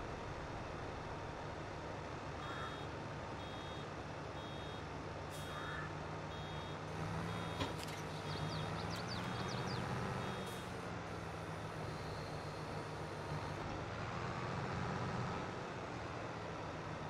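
A vehicle's reversing alarm beeps steadily in Farming Simulator 22, a faint, evenly spaced series under a low engine rumble, then stops partway through as the engine carries on alone.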